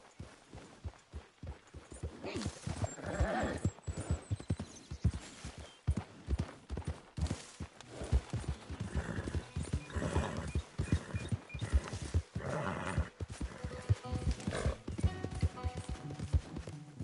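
A horse in Red Dead Redemption 2 gallops and trots with rapid, rhythmic hoofbeats, loud and close, mixed with game ambience and brief snorts.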